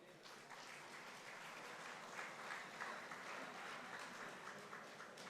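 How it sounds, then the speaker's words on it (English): Guests arriving at an opening conclave draw a large crowd's applause, a dense, sustained wash of clapping heard from a little distance that holds steady and swells slightly midway. "Kindly give them a huge round of applause."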